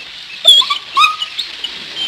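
A dog whimpering in two or three high, thin whines, close and fairly loud, with quieter whimpers trailing off.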